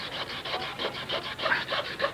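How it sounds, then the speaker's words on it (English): A piece of coal is ground against sandpaper in a quick run of about eight rhythmic rasping strokes, close and fairly quiet, with no voices. "I'm just grinding up this bit of coal with sandpaper"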